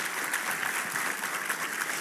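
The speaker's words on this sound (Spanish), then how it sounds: "Fuerte el aplauso" An audience at a church talk gives a dense, steady round of applause that stays even and fairly loud throughout, with no speech over it.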